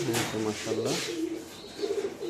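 Several soft, throaty pigeon coos close by, in a short rhythmic series with brief pauses between.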